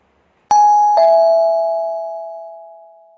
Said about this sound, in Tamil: பெல் ரிங் ஆகுது, போய் பாரு யாருன்னு.